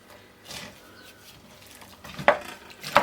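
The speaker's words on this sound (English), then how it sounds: "Just want to give that a stir." A spoon stirs beetroot relish in a pot on an unlit stove, scraping softly, then two sharp metallic clinks against the pot's side near the end, close and otherwise quiet.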